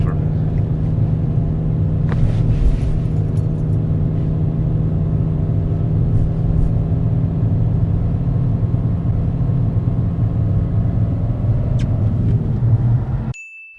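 Car driven in first gear on a narrow road lined with parked vehicles during a driving test, a steady loud engine drone and cabin rumble throughout, with a few faint knocks and rattles.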